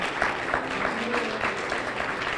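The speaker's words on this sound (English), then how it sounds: "Let's give them a nice hand of applause while they're leaving." An audience claps for young children as they leave after a school program, a moderate, uneven patter of hands that stays fairly quiet and a little distant.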